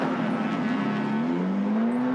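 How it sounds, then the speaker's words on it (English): Touring race car on a circuit at the Malaysia Touring Car Championship, a steady droning engine note that climbs gradually in pitch as it passes, loud and continuous with no speech. "On your screen, Lim Chok, Sakura racing car"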